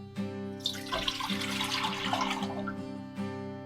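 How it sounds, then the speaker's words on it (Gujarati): Water pours into a steamer pot on a kitchen stove, a continuous splashing stream that starts abruptly, runs for a few seconds and cuts off, heard over a steady tonal hum. "સ્ટીમરની જે લાઈન છે તેનાથી અડધું પાણી લીધું છે"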